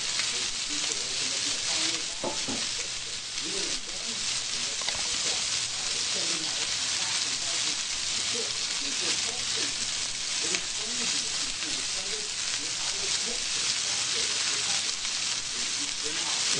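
Chicken pieces crisping in a wok at least 25 years old, giving a steady, quiet, even sizzle of frying that runs without a break, with faint stirring clicks now and then.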